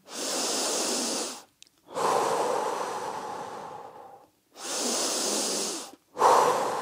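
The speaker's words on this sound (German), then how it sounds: "tief ein- und ausatmen" Deep breaths in and out during a kettlebell windmill workout, four long audible breaths, close and airy, each separated by short pauses, with no speech.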